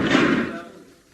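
A door in a wartime radio comedy, opened by a platoon at a pumping station, with a single loud slam or thud at the start that fades away, as a heavy wooden door might.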